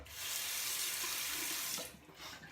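Tap water runs steadily into a sink to splash the face between passes of a freshly forged and honed custom kamisori straight razor, a continuous loud gush that cuts off near the end, leaving a brief quieter trickle.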